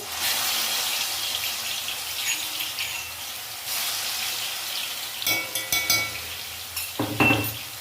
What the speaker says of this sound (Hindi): और लहसुन को अच्छे से भून लेते हैं।